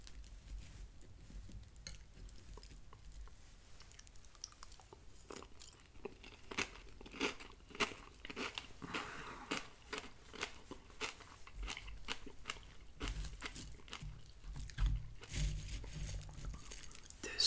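Crunchy Kellogg's Cocoa Krispies cereal with strawberries being chewed up close, with quiet, steady crunching and biting and occasional spoon and bowl clinks, soft and intimate with no talking.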